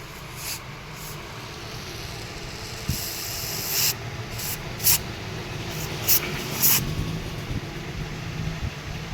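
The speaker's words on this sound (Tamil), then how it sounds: "இப்போ வந்து நம்ம ஸ்ப்ரே அடித்து க்ளீன் பண்ணலை உங்களுக்கு லைன் க்ளியராக வந்துடும்" Repeated short hissing bursts of aerosol spray, close and fairly loud, with pauses between each squirt.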